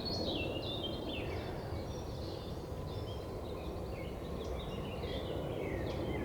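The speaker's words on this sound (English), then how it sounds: "Let the sound of the birdsong play with your eardrums." Birds sing and chirp continuously outdoors, a mix of high twittering calls repeating throughout over a steady broadband hiss of ambient noise, moderately faint.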